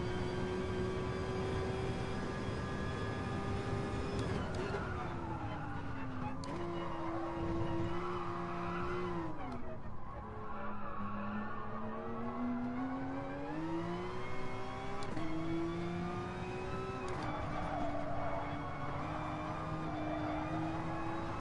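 A Porsche race car engine in GT Sport drones steadily, its pitch rising and falling with shifts and throttle changes over a long stretch, with no talk.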